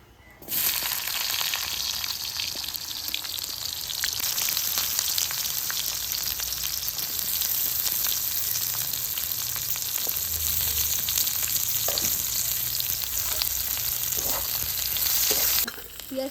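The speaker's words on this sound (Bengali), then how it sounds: "পেঁয়াজটা একটু ভাজা ভাঙা করে নিই হ্যাঁ এই যে পেঁয়াজটা ভাজা" Onions sizzling in hot oil with cumin seeds and bay leaf in a pan, a loud, continuous crackling fry that holds steady throughout with occasional stirring, no voices.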